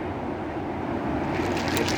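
Churning river water at an Oregon riverside, a steady rushing roar of turbulent current with wind noise, continuous and fairly close throughout.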